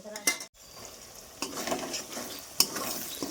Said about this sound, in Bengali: দেখো তেল গলতে শুরু করে দিয়েছে আর এই যে পেঁয়াজ রসুন যা আছে সব গলতে শুরু করে দেবে দেখবে মিনিট তিনেক এইভাবেই নেড়ে চেড়ে রান্না করব